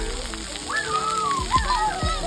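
Water sloshes and splashes close by as kids play in it at a first birthday party, with children's voices and chatter mixed over the splashing.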